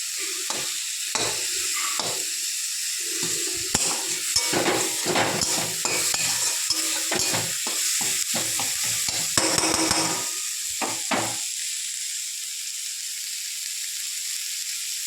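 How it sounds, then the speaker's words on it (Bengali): Fish frying in a pan over a low flame, a steady close sizzle with choppy stirring and scraping bursts through the first eleven seconds, then the sizzle carrying on alone. "ভালো করে ভেজে নিলে টেস্টটা ভালো হবে।"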